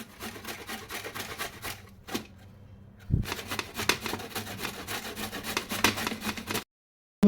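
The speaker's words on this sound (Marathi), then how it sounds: "आता मी त्यांना किसायला सुरुवात करते" Carrots being grated by hand for gajar halwa, a steady close scraping and rubbing that runs in busy bursts, pauses briefly twice, then stops near the end.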